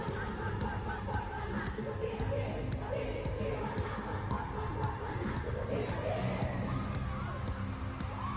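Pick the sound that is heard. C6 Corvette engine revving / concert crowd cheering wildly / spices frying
concert crowd cheering wildly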